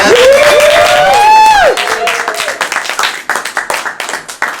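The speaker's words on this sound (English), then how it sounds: "let's give a nice round of applause for our speaker for today, Reverend Roxie Benson." A church congregation claps to welcome a visiting reverend before a teaching, scattered applause rising under a sustained sung or spoken tone at first, then thinning into uneven individual claps that fade out.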